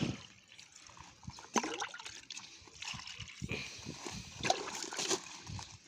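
Water trickles and splashes onto soil in short uneven bursts, close by, with scattered small knocks and rustles between pours.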